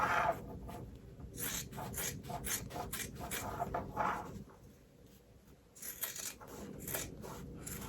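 Scissors snipping through fabric around embroidered stitches on an in-the-hoop gnome wreath stuffie, a series of close, crisp cutting strokes in short bursts with a brief pause midway.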